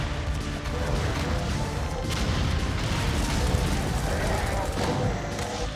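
Explosions and crashing blasts from the video game Doom 2 fill a dense, steady wash of game noise, loud and continuous throughout, with a voice talking over parts of it.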